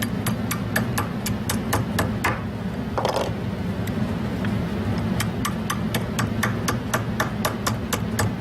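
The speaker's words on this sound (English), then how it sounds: "a rawhide mallet that I'm going to use to help me bend it" A rawhide mallet taps silver wire to bend it into a twisted bracelet, giving sharp, evenly spaced strikes, close and distinct, over a steady low background hum.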